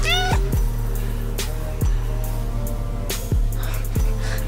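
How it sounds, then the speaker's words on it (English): A pet cat meows a few times at close range, short rising calls heard over a steady background hum, with brief gaps between each meow. "Speaking of kittens, here's Pepper"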